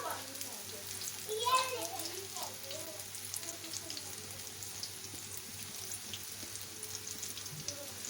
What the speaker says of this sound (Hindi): लो टू मीडियम फ्लेम पे हम करेंगे फ्राई इनको